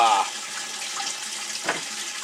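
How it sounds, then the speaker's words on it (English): Water rushes steadily from a tap into a 5-gallon bucket, a continuous close hissing splash with no pause. "We'll use a 5-gallon bucket. We're going to fill it up with water."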